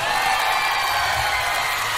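A large concert crowd at a show in Japan in 2003 cheering and applauding, a broad wash of noise with scattered whoops, sustained and loud throughout.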